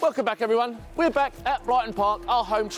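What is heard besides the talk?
No everyday noise stands out behind the speech.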